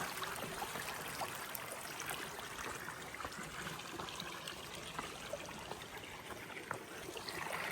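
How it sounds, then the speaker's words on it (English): Water from an outdoor water feature trickles in a soft, continuous wash, faint and steady throughout with no talking. "thank you, water feature."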